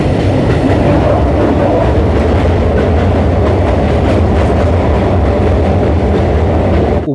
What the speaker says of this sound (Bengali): ছেড়ে দিল আমাদের ট্রেন ব্যারাকপুর স্টেশন থেকে।